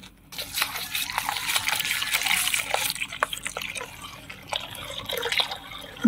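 Milk pours into a pot while payesh made with chana dal and rice flour is cooking, a steady liquid splash and trickle running several seconds at close range without talk.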